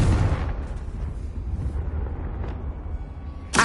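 Confringo fire spell explosion in the video game Hogwarts Legacy, a sharp burst followed by a low, rumbling blast tail that fades, with another sudden bang at the very end.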